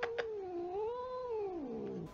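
A domestic cat lets out one long, drawn-out meow that rises and falls in pitch, close and clear with no talking around it.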